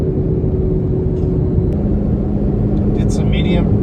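Camaro ZL1 driven to cool its newly replaced front brakes gives a steady low rumble and road roar throughout, with a brief voice near the end.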